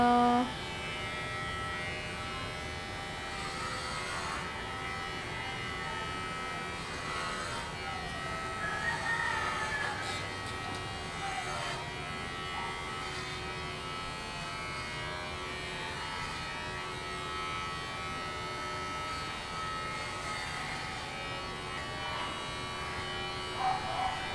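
A Kemei electric hair clipper buzzes continuously while cutting hair during a fade haircut, a fairly quiet, steady close hum with small shifts as it moves across the head.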